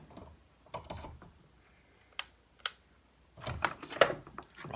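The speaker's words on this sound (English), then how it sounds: "I can feel a little slop in this gear, and that's where all the noises come from." Heiniger Extra sheep clipper with a stripped, sloppy gear, sounding in scattered mechanical clicks and rattles with a few sharp knocks and a rougher grinding burst near the end, close and fairly quiet.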